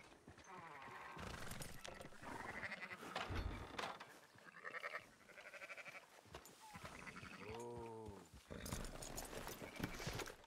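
Sheep bleating and horse hooves clip-clopping in the Wild West video game Red Dead Redemption 2, several wavering bleats from a flock mixed with a snorting horse and footfalls, close and fairly loud, with brief voices between.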